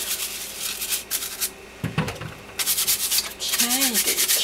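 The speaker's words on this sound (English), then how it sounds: "if you have hard vegetables and you would like to scrub them as I do, then you get out a little scrubbing brush and" A small scrubbing brush scrubs hard vegetables in a kitchen, giving bursts of brisk rhythmic bristle scratching with short pauses between strokes, close and fairly loud.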